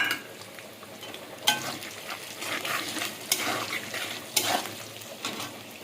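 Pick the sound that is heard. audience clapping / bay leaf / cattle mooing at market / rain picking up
bay leaf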